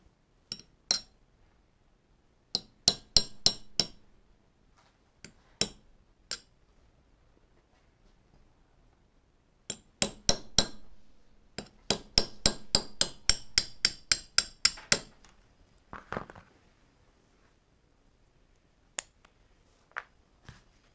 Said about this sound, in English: you just use the hammer and the medium pen punch again